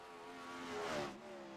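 A wingless 360 sprint car on a dirt track qualifying lap, its engine howling in a steady high-pitched drone that swells loudly as it passes close by, then fades slightly.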